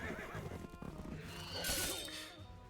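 Cavalry horses in the fantasy strategy game Wargroove whinny loudly over a busy layer of clashing, crashing battle effects, with one bright neigh rising mid-clip and no talking.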